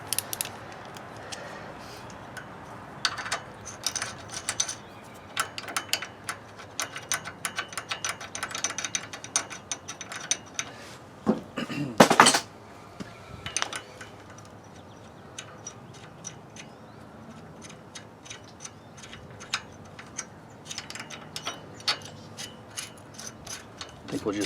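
Ratchet wrench with a 10 mm socket loosening the rocker arms on a seized Kohler Courage engine from a Craftsman LT2000 mower, giving repeated clicking and ticking of the pawl through the clip with a louder metallic burst near the middle.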